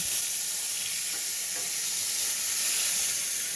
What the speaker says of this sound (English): Now it's time to flip Ruby's steak, and I'm going to put my steak on